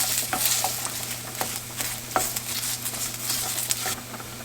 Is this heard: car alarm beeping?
no